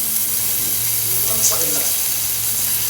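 Oil sizzles steadily in a pan while pomfret fries Malvani style, a close, even crackling hiss that holds without pause and carries no talk.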